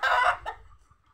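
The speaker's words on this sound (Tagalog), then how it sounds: "Ito ah, nabol yung manok." A single loud chicken squawk, close by, fades quickly into quiet as a dog chases the bird.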